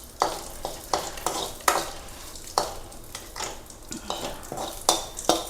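Kashmiri chili powder fries in a pan for a coconut-based anchovy and raw mango curry, with a soft sizzle under repeated close scraping stirs of a spoon against the pan, and no talking.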